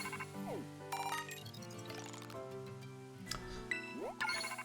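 A phone ringing in the video game Pokémon Scarlet, with bright repeating electronic ring tones layered over game music, sounding steadily and fairly close.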